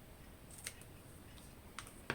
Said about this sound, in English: So let me cut this a bit shorter here.